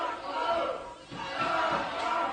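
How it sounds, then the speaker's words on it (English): Wrestling arena crowd in Ohio during a Batista versus Brock Lesnar match, a dense roar of cheering and yelling that dips briefly then swells again, with a commentator's voice running underneath. "Listen to the crowd."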